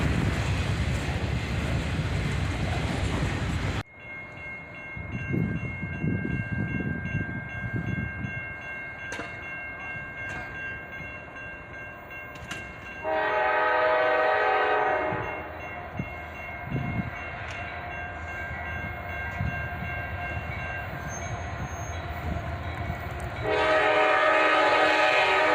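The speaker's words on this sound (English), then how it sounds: "The intermodal train was huge and also included a DPU." A huge intermodal freight train with a distributed power unit rumbles steadily past outdoors with heavy rolling noise and wind, while its horn blows several long loud blasts that come and go over the passing cars.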